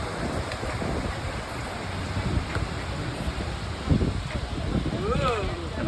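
Ocean surf and wind wash steadily over a beach in Puerto Vallarta, Mexico, a continuous rushing noise with light wind buffeting on the microphone and a faint whistle-like sweep near the end.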